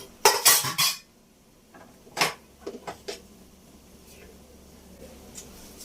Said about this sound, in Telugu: వీటిని 2 ముక్కలు చేస్తాను.